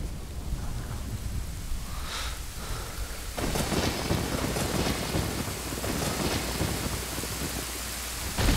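Steady rain hisses throughout in The Legend of Zelda: Ocarina of Time. A low rumble of thunder swells partway through and the downpour grows heavier, all with no talking.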